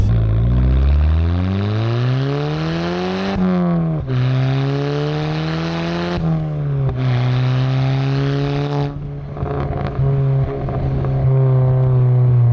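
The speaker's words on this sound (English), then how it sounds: "this car has an exhaust system on it as well" A MK5 Golf GTI's stainless steel exhaust with decat, resonated center section and 3-inch back box revs repeatedly, the engine note rising in pitch then dropping back between blips, loud and close, with no talking.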